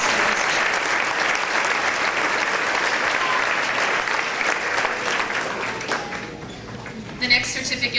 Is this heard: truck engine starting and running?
no